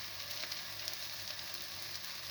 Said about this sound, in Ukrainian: зажариться, засмажиться і будемо перегортати